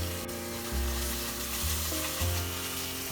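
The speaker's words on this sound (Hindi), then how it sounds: "अभी हमें और 3-4 मिनट मसाला सौटे करना है।" Masala paste of coconut, peanuts and tamarind pulp sautéing in oil for Hyderabadi bagara baingan, a close, steady sizzle with stirring, alone and without talk.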